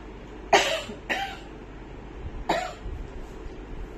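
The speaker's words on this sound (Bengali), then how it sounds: "খুব কাশি হচ্ছে" A person coughs three times, two quick coughs close together and a third a moment later, close and fairly loud against a quiet room.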